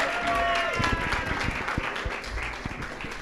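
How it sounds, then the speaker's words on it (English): An audience at a book chat applauds with loud, dense clapping that gradually thins out, with talk underneath. "Please give him a round of applause."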